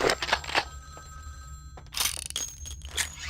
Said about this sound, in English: Where's the phone coming from?